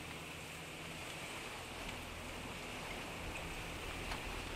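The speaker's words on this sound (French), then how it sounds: "Le ruisseau est de plus en plus étroit, la pente plus abrupte, avec des chutes qui nous bloquent le chemin." A narrowing, steep mountain stream broken by small waterfalls, heard as a constant, fairly soft broadband rush of flowing water without any speech.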